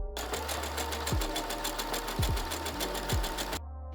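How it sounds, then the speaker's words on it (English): A sewing machine runs a zigzag stitch along the edge of a skirt piece, making a fast, even mechanical chatter close by. It runs steadily for a few seconds, then stops. "Sew a zigzag stitch along both edges of the skirt."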